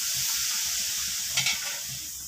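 Oil poured into a Mysore pak mixture, a gram flour and sugar sweet, sizzling steadily in the pan as it is stirred, with a brief brighter burst of frying partway through; no one speaks.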